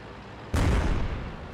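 A single heavy artillery shot from a tank in World of Tanks bursts out suddenly with a deep, booming crack, then rumbles and fades over about a second.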